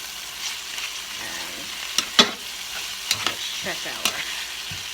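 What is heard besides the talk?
Italian sausage sautéing in olive oil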